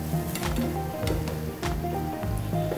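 Doughnuts sizzling in hot oil at low heat while being flipped, a steady close crackle broken by soft repeated stirring and squishing movements.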